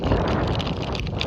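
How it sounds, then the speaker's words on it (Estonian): Wind blowing outdoors rumbles steadily against the microphone in a loud, continuous buffeting wash with no clear gaps. "Aga meil tuuline."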